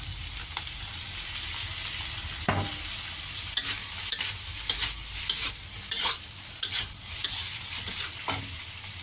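Fried rice with dried scallops is stir-fried in a hot pan, a steady close sizzle broken by frequent scraping strokes and clanks of the spatula against the pan.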